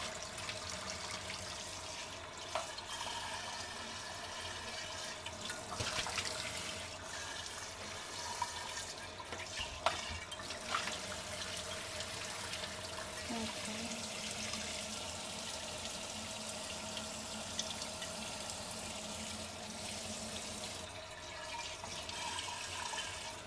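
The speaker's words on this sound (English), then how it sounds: "make sure to rinse it with water, cold water, really good after you wash it." Cold tap water runs steadily while something is rinsed, a continuous faint splashing rush with small bumps and clatters and no talk.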